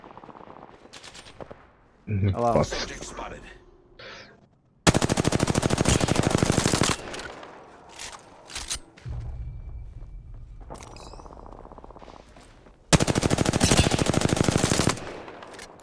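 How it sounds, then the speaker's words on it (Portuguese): Gunfire in the Apex Legends video game: long, dense bursts of automatic weapon fire come in several loud bouts, with scattered single shots, movement sounds and brief talk between them. "Vou pelo menos dar uns tiros pra ganhar uns danos"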